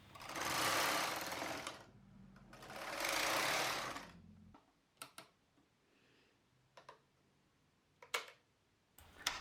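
A 30-year-old knitting machine knitting a sweater sleeve makes two long, loud whooshing passes of the carriage, followed by quieter clicks and sharp clacks from resetting the machine.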